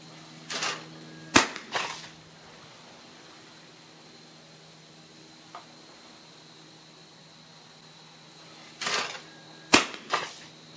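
A shotgun fires Remington clay and field loads (1 1/8 oz, 1200 fps): two sharp, loud reports several seconds apart, each followed by a brief clatter, with quiet background between.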